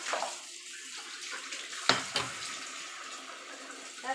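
Tap water runs and splashes while meat is rinsed for soup in a kitchen, a steady hissing spray broken by a couple of sharp splashing bursts near the middle, close and moderately loud.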